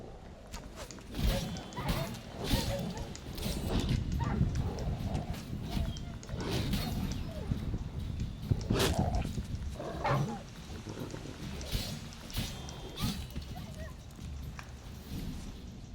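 In The Witcher 3, a pack of stray dogs attacks with snarls, growls and scuffling of paws, loud bursts coming and going through the fight while someone talks over the commotion.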